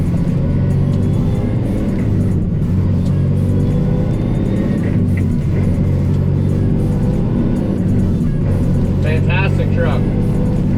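A Volvo manual dump truck hauling dirt drives along a road, its engine droning steadily and loudly from inside the cab, with gear changes and rattles, while someone talks over it.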